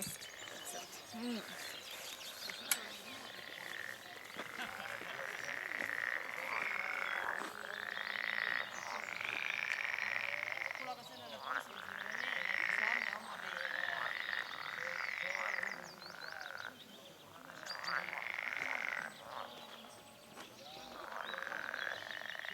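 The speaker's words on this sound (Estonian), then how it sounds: "Ja siis ikka need konnad." A chorus of frogs croaks in repeated rising, bubbling bursts at a rural spot in Haanjamaa, fairly loud and steady, with occasional bird chirps around them.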